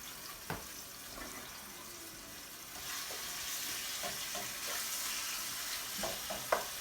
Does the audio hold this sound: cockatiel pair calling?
no